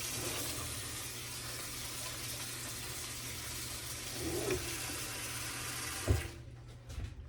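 Water runs steadily from a kitchen tap for several seconds while mushrooms are cleaned, a constant broadband rush with a brief clatter near the end as the flow cuts off.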